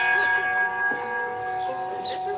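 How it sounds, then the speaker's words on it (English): A handheld old-fashioned school bell rings with a bright, sustained metallic tone and shimmering overtones, close and fairly loud, with voices and movement around it. "This is how school bells used to be"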